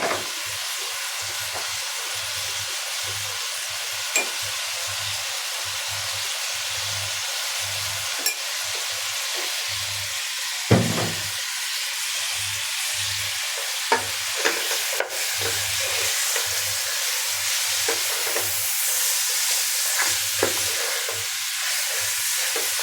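Ginger, garlic and cumin fry in hot oil for a beef curry, giving a steady broad sizzle, with occasional stirring clinks and scrapes breaking through the hiss.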